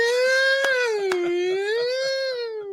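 Siren horn sound effect on a sports talk show, a loud wailing tone sliding down and back up in pitch, with a couple of sharp hits near the start, alone without talk.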